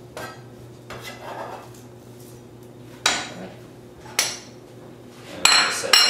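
A knife chops ingredients for pad thai on a cutting board in a kitchen, giving a few sharp, separate knocks spaced out by pauses, then a quicker cluster of close, bright taps near the end.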